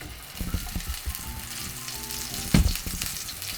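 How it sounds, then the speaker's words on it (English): Roti flatbread fries softly in a pan over low heat, a quiet crackling hiss with occasional louder pops and a brief scraping stir partway through. "Now I'm going to be frying my roti."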